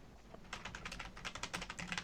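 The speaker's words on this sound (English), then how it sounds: "as you hear me typing out on my uberly loud mechanical keyboard" Rapid, steady typing on a very loud mechanical keyboard, crisp individual key clacks close up, starting after a brief quiet moment and continuing without talk.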